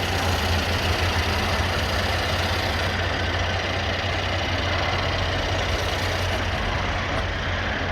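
A 2017 Mercedes-Benz E400 4Matic sport wagon engine idling, a steady low hum with a smooth continuous drone and faint mechanical ticking, heard close and alone without talk.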